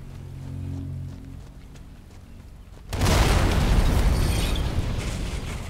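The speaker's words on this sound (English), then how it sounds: "It's gonna explode!" A bunker blows up in the video game Sniper Elite 5, a sudden loud explosion about halfway through that breaks into a long, roaring rumble of debris after a quieter stretch of low background tones.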